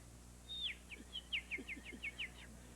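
A man whistles a bird call by mouth, imitating birdsong with a rising first note followed by a quick run of short, bright chirps, clear and close in a quiet setting.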